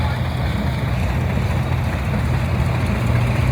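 A 1958 Marble 130 tractor engine, an Olmsted model with a single-bottom fast-hitch plow, idles steadily at an outdoor show, a low continuous rumble held at an even loudness throughout with broadband background noise.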